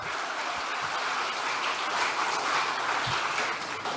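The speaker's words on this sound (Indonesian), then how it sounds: "Tepuk tangan lagi." A crowd of people, including women, clap at a political gathering in Indonesia: a continuous, moderately loud patter of applause heard on its own, with a couple of faint low thumps.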